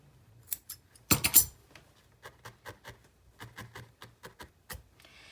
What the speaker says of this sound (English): I'm gonna snip this piece off.